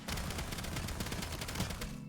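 Rapid video game gunfire erupts in dense overlapping bursts, a loud continuous volley of shotgun blasts and impacts under game music for about two seconds.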